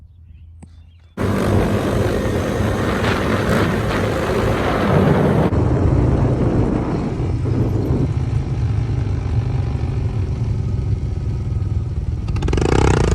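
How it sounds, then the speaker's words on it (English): A motorcycle engine bursts into a loud, close roar, then eases to a steadier, softer drone as the rider lets off the throttle and coasts. "we're just gonna take our throttle hand off, and we're just gonna coast it out."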